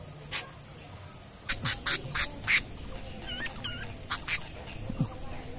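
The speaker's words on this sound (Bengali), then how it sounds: "হাট থেকে আমরা কিছু নিয়ে এসেছি পাখি আর কিছু কবুতর নিয়ে এসেছি।" Birds brought home from a market and being put into a cage give short, sharp calls in quick bursts, a cluster of loud chirps and quacks close by with quiet pauses between.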